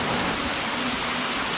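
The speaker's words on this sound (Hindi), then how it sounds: "बिन बादल बरसात हुई।" Cartoon rain pours as a steady, dense hiss of falling drops that stays even and loud from start to finish, with no voices.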